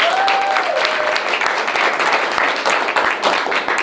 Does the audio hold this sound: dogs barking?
no